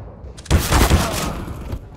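A single loud gunshot from Counter-Strike: Global Offensive, striking sharply and close after a quiet moment, then ringing out in a decaying tail for over a second.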